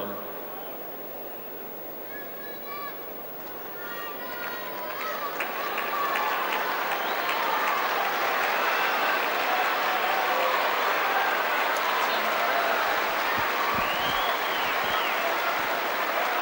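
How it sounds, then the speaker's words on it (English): Tennis crowd at the 1989 Australian Open quarterfinal cheers and applauds Martina Navratilova, a dense, sustained wash of clapping and shouts that swells after a few seconds and holds steady. "the crowd is cheering on Martina Navratilova"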